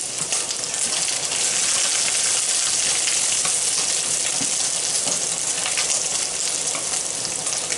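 Chicken browning in a hot frying pan on a stovetop, a steady dense sizzle of frying that holds loud and even throughout with no talking.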